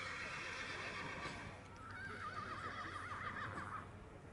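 A horse whinnies at an AQPS breeding show in Decize, its wavering call rising mid-clip over steady crowd and arena noise, moderately close and fairly loud.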